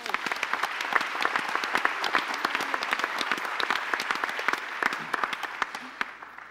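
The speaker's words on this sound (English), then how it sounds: "So can we just give him a huge round of applause?" An audience at a thought leadership talk breaks into sustained applause, with dense, steady clapping from a sizable crowd lasting the whole stretch at an even level.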